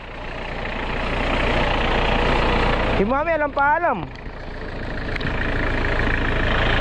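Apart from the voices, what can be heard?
tractor engine running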